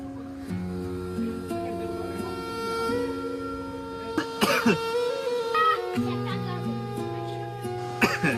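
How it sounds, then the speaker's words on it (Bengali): A few short, harsh coughs from someone with a bad cough and sore tonsils break out twice, over steady tonal music and faint background voices. "কাশি অনেক বেশি হয়ে গেছে রে"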